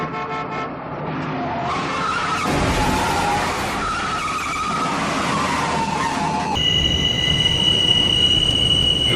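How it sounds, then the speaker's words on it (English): An elevated subway train rumbles directly overhead on a New York street, loud and close, with sustained metallic wheel squeal over heavy rolling noise, then a steady high whine as it continues past. "Train. Right over our heads."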